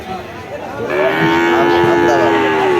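A heifer calf at a cattle market gives a loud, close, drawn-out moo that rises and holds steadily for about two seconds after a quieter lead-in of background noise.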